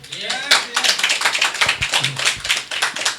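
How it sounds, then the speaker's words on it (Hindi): Clapping breaks out in a church meeting, with a hard tap-like onset and fast, uneven claps. Voices and crowd murmur run over and under the claps. "अब यहां यीशु के लिए ताली।"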